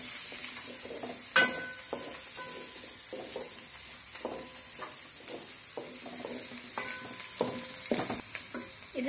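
Onions and dried red chillies fry in a pan with a soft sizzle, broken up by frequent clinks and scrapes of a spoon stirring against the metal.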